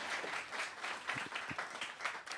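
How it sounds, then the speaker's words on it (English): Audience applause fills a hall during a jazz presentation, with steady, dense clapping throughout and a few brief low voice sounds mixed in. "Round of applause, Rich and Vicky Narigian."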